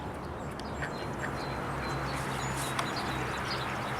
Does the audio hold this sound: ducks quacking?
yes